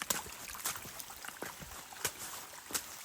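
Muddy water trickles and runs steadily down a trail on the Appalachian Trail in rain, with scattered soft splashes and patters, quiet and continuous with no voices.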